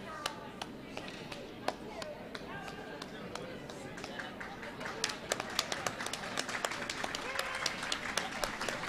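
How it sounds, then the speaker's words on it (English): Scattered clapping for curling teams leaving the ice at a club curling event, light and uneven hand claps spread across a quiet rink, with a commentator talking over it. "Applause for the teams on sheet A coming off the ice"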